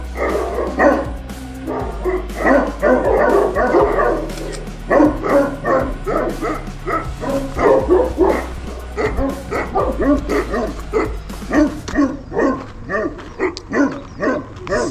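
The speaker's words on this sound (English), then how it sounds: "They have a bunch of these dogs." Several dogs kept at a house with kennels bark repeatedly in lively bursts, with occasional yips and whimpers, fairly close and loud throughout.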